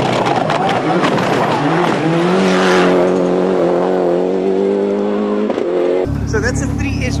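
Toyota rally car with a 3S-GTE turbo engine, loud close engine roar rising and holding a steady revving pitch with tire noise, and people talking over it.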